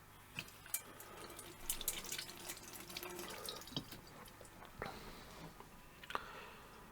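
Peeled Chinese tea eggs rinsed under a running kitchen tap, a soft steady patter of water with scattered drips and splashes against the sink, fairly quiet and close.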